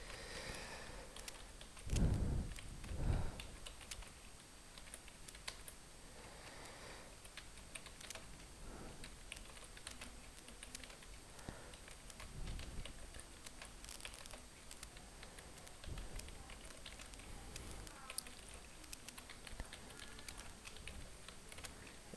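Light, continuous typing on a computer keyboard, quiet and close, with irregular key clicks and a few louder taps near the start.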